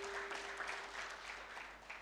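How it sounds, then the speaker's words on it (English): An audience applauds at a customs freight forwarding certificate graduation in East Africa, a faint, continuous patter of many hands clapping at a distance, with no one speaking over it. "Clap for yourselves."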